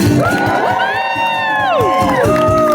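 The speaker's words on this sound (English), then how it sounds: "And let's give a cheer for the band!" A Renaissance faire crowd at a Halloween comedy show cheers loudly for the band, with whoops and rising, sliding shouts over constant crowd noise.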